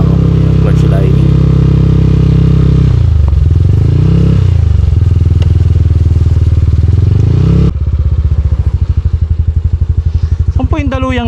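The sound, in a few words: motorcycle riding on rough road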